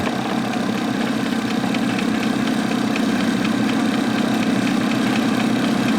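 An engine idles steadily and close by at about 270 RPM, a constant low rumble with a fine rapid rattle throughout and no voices.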